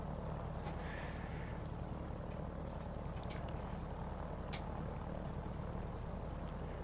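Grumman F4F-4 Wildcat engine in a flight simulator while coming in to land, a steady low propeller drone holding throughout with brief faint higher chirps over it, no talking.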